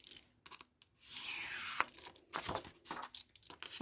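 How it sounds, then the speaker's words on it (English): Scissors cut through paper close by in a quiet room: a few short snips, then one long, smooth rising slice, followed by further crisp snips and rustles of the paper sheet being handled, with no talk. "That was a nice noise cutting that paper, wasn't it?"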